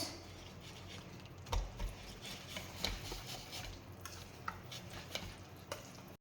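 Ingredients are stirred and mixed by hand in a bowl, with faint scraping and light knocks of a utensil against the side, mostly quiet and irregular.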